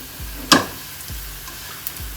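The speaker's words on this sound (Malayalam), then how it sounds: "നമ്മളെ പച്ചമുളകെല്ലാം നല്ല വറുത്ത് വന്നിട്ടുണ്ട്." Green chilies frying in a pan give a soft, steady sizzle, broken by a sharp crackle or pop and a few light stirring knocks, close and with no one talking.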